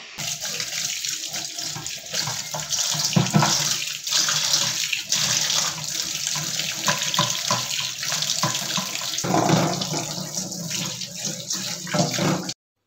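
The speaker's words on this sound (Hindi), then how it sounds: "अब ये जो हमने सरका डालकर रखी थी ना चिकन इसको अच्छे से हमें धो लेनी है ताकि इसके ऊपर का सारा सरका जो है वो निकल जाए" Steady gush of tap water runs into a kitchen sink while vinegar-soaked chicken is rinsed, a loud continuous splash with irregular sloshes and clatters, no talking.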